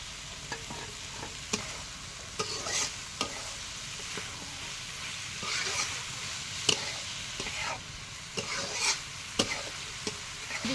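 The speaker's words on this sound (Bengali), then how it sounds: "আলু আগে না দিলে আবার ভাজা ভাজা হয় না, এই জন্য আলু দিয়ে দিলাম তারপরে" Potatoes frying in a pan for a silver carp roe dish, a low steady sizzle punctuated by repeated sharp scrapes and taps of a stirring utensil.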